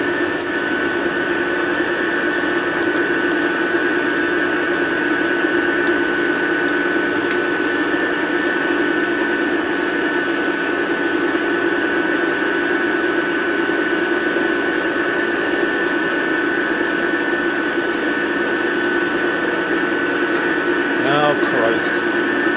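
A bus alternator spins at fairly low RPM on a test setup, giving off a steady, loud mechanical whine and hum with constant tonal drone and no change in pitch throughout.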